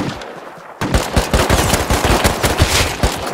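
Rapid automatic gunfire in the video game Rust bursts in after a quiet start, then rattles on loud and close as a sustained stream of shots.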